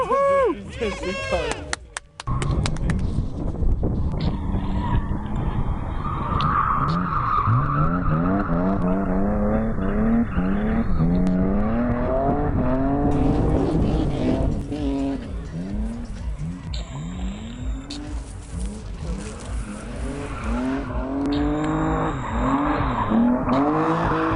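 A car drifts with loud, sustained tire squeals that warble and rise under a revving engine, close to the listener, with voices talking over parts of it.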